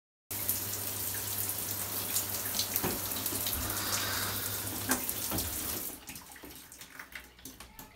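Water from a just-repaired shower in a loft conversion runs in a steady hissing spray with a low hum beneath, then cuts off abruptly, leaving drips and faint clatter.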